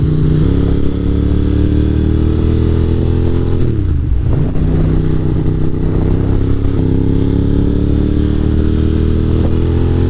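A 2024 KTM 500 EXC-F motorcycle engine runs loud and close throughout, its revs dipping briefly near the middle and then climbing back to a steady, throaty drone, with no talk.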